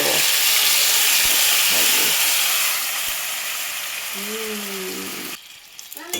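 Mung beans go into a hot pan and a loud hiss and sizzle follows. It slowly fades, a brief squeaky scrape comes near the end, and then the sizzle drops away, leaving faint clatter.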